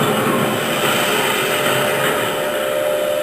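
Rumbling train of flatbed wagons on a misty island dock railway, a dense continuous roar of wheels and rolling stock held steady and loud throughout, with no voices.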